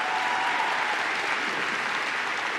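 Audience at a university convocation ceremony applauds steadily, a dense and even wash of clapping that holds at the same level from start to finish.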